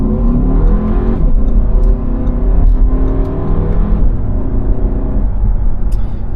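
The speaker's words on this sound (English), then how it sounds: "So what's the acceleration like from the Q3?" Audi Q3 40 TFSI S-line, a 2023 model, accelerating hard with all-wheel drive, its engine note rising steadily through the gears as heard from inside the cabin, loud and continuous with no talk.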